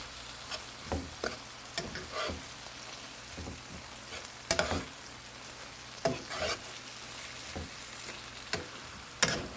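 Greens frying in a pan, a soft continuous sizzle broken by repeated scraping and stirring strokes, fairly quiet and close.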